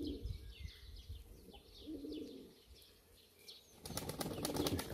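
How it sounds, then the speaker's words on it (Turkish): Pigeons beat their wings outdoors to shake off dust during molting season, with bursts of close, rapid flapping and some soft cooing, ending in a louder run of quick wingbeats. "Açık havada kanat çırpıp tozu atıyorlar."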